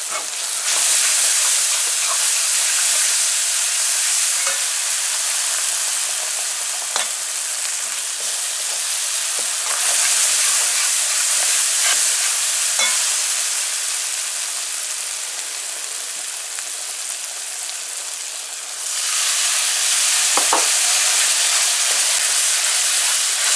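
A paste sizzles in a pot for Guyanese bhunjal dhal, a loud steady hissing fry that dips briefly and then surges back, with faint stirring clicks and no talk.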